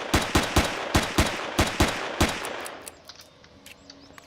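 Video game pistol fire: about eight sharp, evenly spaced shots ring out close and loud, then give way to quieter ambient game sound with faint chirps.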